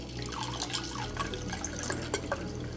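A pomegranate rosemary martini poured from a mixer into a glass, a soft close trickle with a couple of faint clinks near the start, quiet and steady with no talking.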